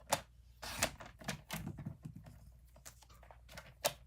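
A paper trimmer cuts card for a Christmas pop-up book, giving a series of faint, sharp clicks and short slicing scrapes spaced irregularly over a few seconds.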